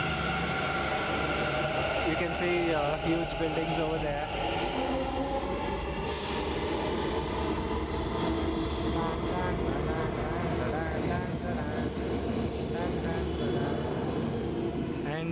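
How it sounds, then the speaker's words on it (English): A metro rail train passes in a city, a loud, continuous rolling rumble with squealing tones running throughout, while a person talks over it. "This is the metro rail."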